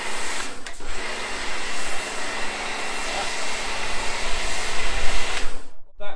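A snow foam lance is turned up to its maximum setting and sprays thick foam onto a car, making a loud, continuous spraying hiss for several seconds that cuts off abruptly near the end.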